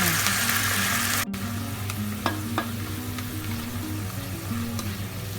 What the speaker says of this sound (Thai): ผัดสักครู่หนึ่งให้แอลกอฮอล์ในไวน์ขาวระเหยออกให้หมดนะคะ